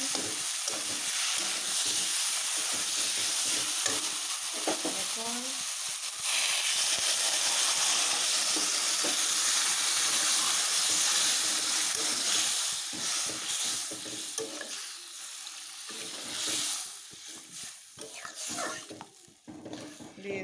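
Water poured onto fried spices and boiled potatoes in a pan sets off a loud, sustained hiss and sizzle that gradually settles, with occasional stirring, close up.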